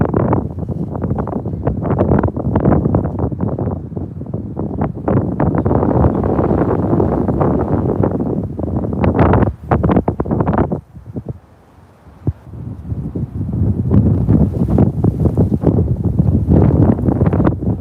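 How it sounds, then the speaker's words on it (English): Strong wind buffets a microphone outdoors, a loud, continuous low rumble with gusty bursts that briefly drops to a lull before roaring back up. "the wind died down and now it picks back up again"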